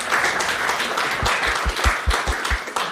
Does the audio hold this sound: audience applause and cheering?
yes